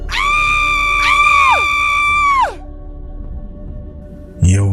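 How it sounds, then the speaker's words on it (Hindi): Piercing drawn-out screams and yells from a cottage in a forest horror tale, two long high wails rising and sliding downward, then quiet before a short sharp cry at the end. "अचानक कॉटेज की तरफ से चीखने चिल्लाने की आवाजें आने लगी।"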